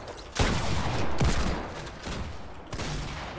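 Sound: gunfire in the video game Fortnite

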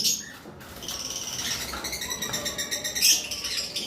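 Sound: cockatiel birds calling

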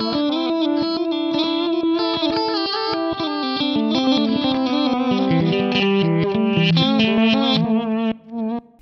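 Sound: reverse delay guitar effect on Digitech Timebender pedal

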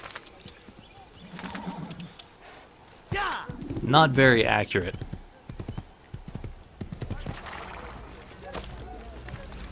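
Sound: horse neighing and hooves in video game Assassin's Creed

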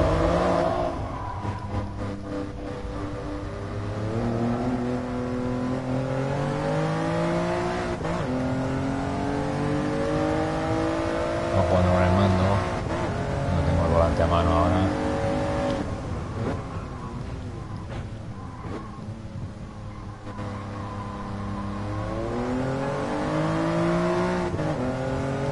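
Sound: Toyota Yaris GR engine in video game Gran Turismo GT Sport

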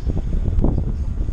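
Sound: wind blowing at a mountain bike park

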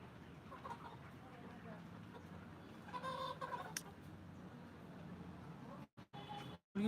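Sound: layer chickens clucking on a poultry farm

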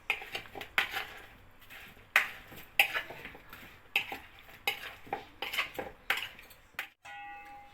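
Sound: mixing spices and oil with a fork

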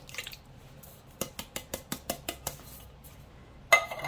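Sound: adding can of diced tomatoes to slow cooker chicken chili

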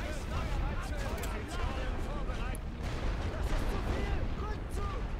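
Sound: rifle fire in The Great War: Western Front video game

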